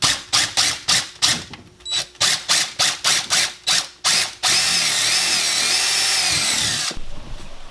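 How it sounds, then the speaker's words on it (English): A power drill bores through wood in a rapid series of short, loud bursts, then runs in one long continuous whine before cutting off. "I can carefully sail this drill bit all the way through."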